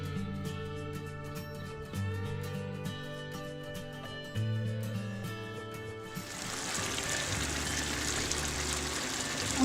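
Black-pepper goat meat cooks down in a pan as its liquid evaporates. Background music plays first, then a loud, steady sizzling and bubbling takes over and continues to the end.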